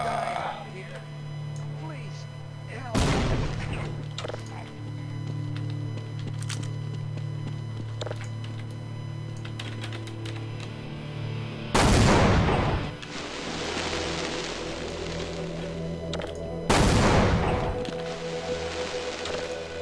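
Sniper gunfire in Half-Life: three loud sharp shots spaced several seconds apart, each cracking out over game ambience and a low steady hum.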